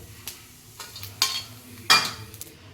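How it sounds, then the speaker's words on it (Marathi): Home-made kurdya, sun-dried wheat crisps, frying in hot oil: a low bubbling sizzle broken by two loud hissing bursts as pieces hit the oil, with light clinks of a utensil between them. "आपल्या कुरड्या तळून घ्या"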